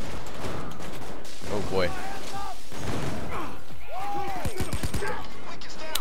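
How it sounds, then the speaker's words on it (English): Broomstick pistol shots in Payday 2 crack out in a few sharp separate reports, some close together near the end, amid chaotic game noise while someone talks. "Nice, only five shots to kill a cloaker."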